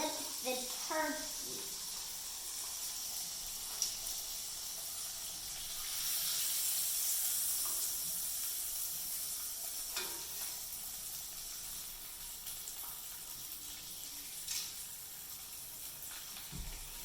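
Turkey slices frying in a pan, a steady close hiss and sizzle that swells briefly in the middle, with occasional clinks and scrapes.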